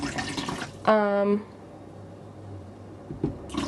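Liquid fertilizer is free-poured into a container of water for houseplants: a brief gurgling pour that rises in pitch as it fills, with someone talking before and after.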